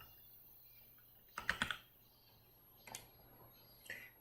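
Quiet keystrokes on a computer keyboard come in two short bursts of a few taps each while entering text into a spreadsheet, followed by a lone faint click, with low background hum and no speech.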